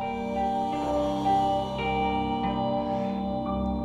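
Film soundtrack played loudly through the built-in speaker of a Wanbo Mozart 1 HD video projector, with sustained tonal music and a continuous full, slightly boxy sound, steady throughout.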